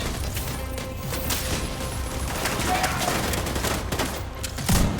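Sniper fire in The Division 2, heard as scattered sharp shots inside a thick, noisy combat mix, steady throughout with a heavier thump near the end.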